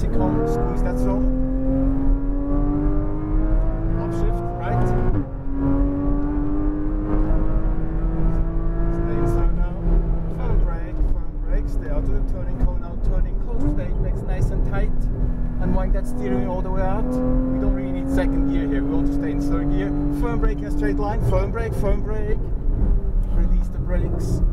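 A Porsche Cayman GTS lapping the California Speedway circuit, its engine note heard from inside the cabin rising and falling through gear changes, loud and continuous under an instructor's running coaching.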